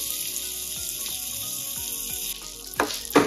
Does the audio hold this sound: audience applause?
no